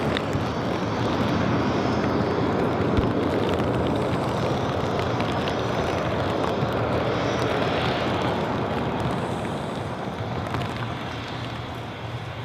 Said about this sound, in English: we go right over to the A330 off to New York JFK